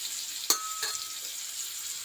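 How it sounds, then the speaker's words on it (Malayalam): Fish frying in a pan in a home village kitchen, a faint steady sizzle with one sharp clatter and a brief stir, close and quiet with no talking. "ഞാൻ മീൻ വാങ്ങിച്ചതെല്ലാം അങ്ങോട്ട് വറുക്കുന്നുണ്ട്"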